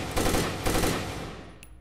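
Automatic gunfire in Takedown: Red Sabre, two rapid bursts of shots close by, each followed by a fading echo and a brief metallic ping at the end.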